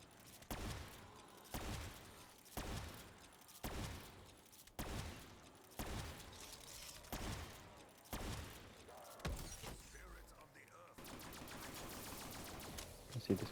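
A gun fires in a first-person video game as roughly eight sharp, evenly spaced single shots, each about a second apart, followed by a quicker, denser rattle of fire at the end.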